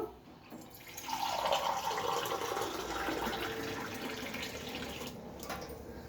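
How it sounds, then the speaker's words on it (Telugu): After a quiet moment, a glass of water pours steadily into a container of spiced buttermilk mix nearby, a continuous gushing stream that holds for several seconds. "ఇప్పుడు నీళ్ళు పోసుకుందాం"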